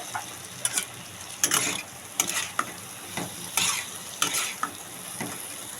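Soybean chunks and potatoes stirred into a spicy, well-fried masala in a pan, giving a steady sizzle broken by repeated scraping, clattering strokes of a spoon at a loose rhythm, close up and with no talking.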